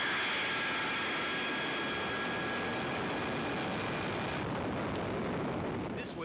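A jet dragster engine roars at a drag strip on a quarter-mile run, a loud, steady, broadband blast that holds for several seconds, with no voices over it.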